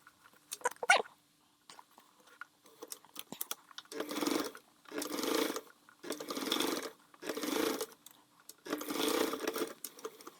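A sewing machine top stitching the small flap of a crossbody bag: after a few light clicks and handling noises come five separate whirring bursts of about a second each, close and clear, with short pauses between them.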